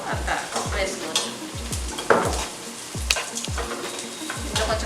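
Green chillies sizzle in hot oil alongside fried onions while a spoon stirs and scrapes the pan in a steady rhythm, with close, continuous frying hiss throughout.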